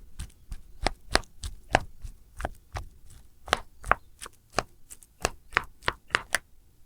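Knife slicing bananas into rounds on a board for Filipino maruya banana fritters, a steady series of sharp close chops, about a dozen crisp cuts in an uneven rhythm with no talk.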